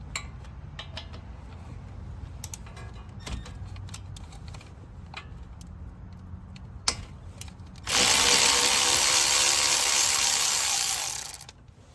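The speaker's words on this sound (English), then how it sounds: "Okay, so let's take out that bolt." A bolt comes off the front strut assembly of a 2016–2021 tenth-generation Honda Civic: scattered clicks and ratchet taps give way to a loud continuous mechanical whirr lasting about four seconds, then it stops, with no speech.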